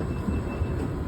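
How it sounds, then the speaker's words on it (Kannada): A Bangalore metro train arriving at a station, a brief low steady rumble of rolling carriages heard close. "ಮೆಟ್ರೋ ಮೆಟ್ರೋ ಮೆಟ್ರೋ ಮೆಟ್ರೋ ಬಂತು"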